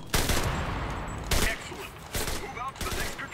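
An MG 30 machine gun fires in bursts in the video game Enlisted, with several loud, rapid rattling volleys broken by short gaps, close and dominant, while other game noises and some voice activity sit underneath.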